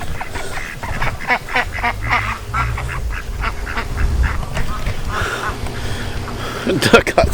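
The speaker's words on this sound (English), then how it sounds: "The duck got stuck." A duck stuck beside a tree house quacks repeatedly in short, rhythmic calls at middle distance, with people talking over and between the quacks.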